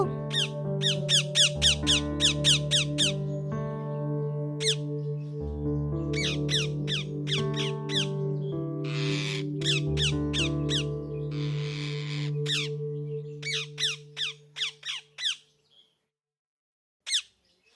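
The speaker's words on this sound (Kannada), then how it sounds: "ಆ ಮಿಟ್ಟು ಗಿಳಿ ಮರದ ಮೇಲೆ ಕುತ್ಕೊಂಡಿರೋವಾಗ" Repeated shrill parrot squawks in quick bursts, close and loud, over a steady tonal musical background in a cartoon, ending with a few isolated calls.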